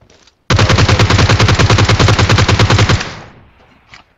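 Rapid automatic gunfire in the mobile game PUBG Mobile, a loud sustained burst of about two and a half seconds that cuts off and fades into a brief tail, with no talk.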